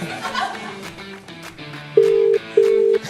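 A telephone call is placed on a TV show, with quick dialing tones followed by two long, loud ringback tones, while a few people chuckle and murmur quietly underneath.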